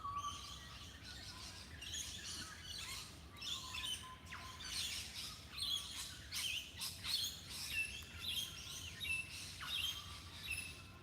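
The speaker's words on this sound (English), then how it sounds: "Parrots are kicking off now" Parrots squawking and chirping outdoors, a busy flock of repeated harsh calls and shrill tweets rising and falling over a low steady background hum, with no one talking.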